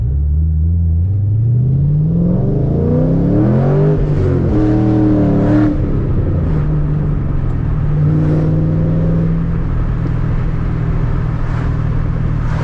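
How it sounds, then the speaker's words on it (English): A Ford Mustang V8 race car revs hard and close, its rumbling engine note climbing and falling through several rising sweeps with a few sharp throttle blips, then settling into a steady, loud idle. "Sometimes all you need is just to go hot dogging in your Mustang."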